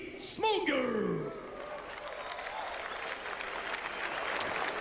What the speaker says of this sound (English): Big applause for Mr.